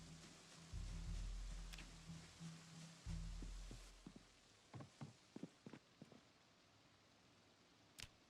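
Rain falls steadily in the Project Zomboid survival game, a faint, even patter with a few soft thuds and scattered taps over it.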